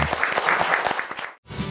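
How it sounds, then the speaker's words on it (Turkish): Studio audience applauds a cooking-competition show's contestants with dense, steady clapping, broken by a short silent gap near the end before clapping resumes. "Bütün gelinlerimizi de alkışlayalım lütfen."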